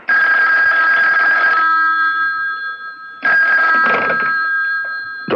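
A telephone rings in a radio drama, two loud, close, bright bell rings separated by a short pause, with no talking over them.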